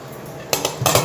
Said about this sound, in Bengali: এইভাবে আমি সব বাঁধাকপিগুলোকে একসাথে এই স্ট্রেনারের মধ্যে ছেঁকে